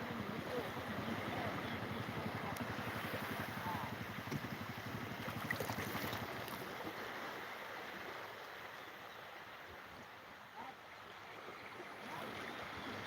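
A single longtail boat's repurposed engine drones steadily out at sea off a Thai beach, a constant loud rumble blended with wind and wash of waves, easing slightly toward the end.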